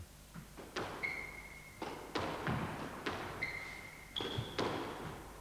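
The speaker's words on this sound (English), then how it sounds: "The second shot Hiddy's going to play here is the straight volleyed drop" A squash ball played as a straight volleyed drop shot in a court, sharp thuds and smacks off racket and walls repeating every second or so, with squeaky shoe sounds in between.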